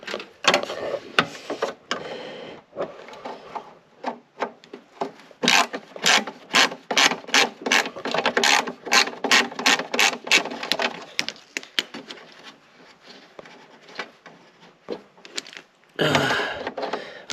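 Screws are being taken out of the heater core box of a 1960 Edsel Ranger. Close ratcheting clicks come in rapid bursts, with scraping and handling noises between them and no one talking.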